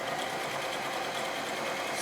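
A beginner sewing machine straight stitches through two layers of quilting cotton, a steady, even whirring chatter running close and continuous for about two seconds.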